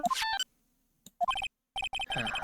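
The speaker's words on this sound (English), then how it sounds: "I bet it was this ringtone that caused it." A phone ringtone from the Ace Attorney: Justice for All video game plays as bright, electronic, melodic beeps in repeated bursts, separated by short silences, loud and close.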